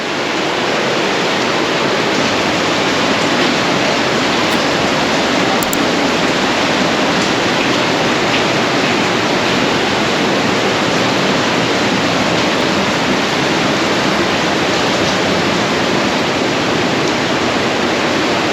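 Water rushes steadily through the narrow rock channel of Partnach Gorge, a loud, continuous roar with dripping water falling nearby, constant from start to finish without any speech.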